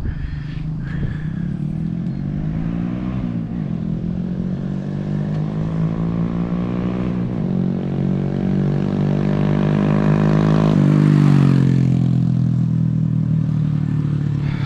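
A Honda Grom small motorcycle is ridden close by, its engine droning steadily and loudly, with the pitch climbing as it revs up before shifting and dropping briefly.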